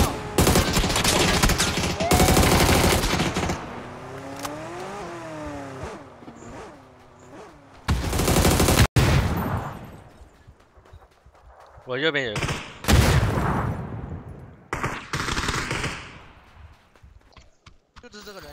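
Silenced gunfire in a video game, with bursts of muffled rapid shots and sharp reports separated by short pauses, while a player talks over the action.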